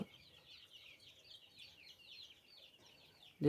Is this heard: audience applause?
no